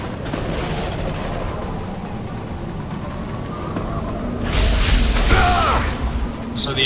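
Incoming gunfire in the video game XCOM Enemy Unknown: a steady crackling, rain-like hiss that surges into a louder burst of shots and whooshes near the end, with no talking.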